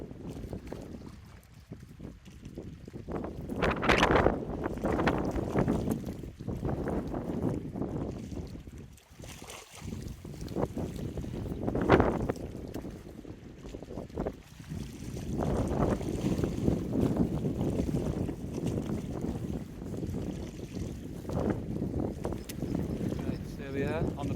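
Steady wind rushes over a small fishing boat at sea off Anglesey, a broad continuous roar with gusty swells and buffeting on the microphone, with a voice talking over it.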